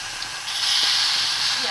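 Sugar and water heat in a pan for apple crumble, giving a close steady steamy hiss that rises and then holds, with no clear bubbling bursts.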